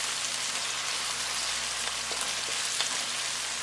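Ginger garlic paste fries in a pan for chicken karahi. It gives a steady, dense, rain-like sizzle throughout, with a few faint crackles and no talking.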